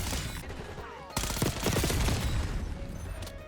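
Video game gunfire during Mecha-Drake blueprint play: a dense burst of rapid automatic shots and booming impacts that keeps up for several seconds, loud and close, after a brief lull.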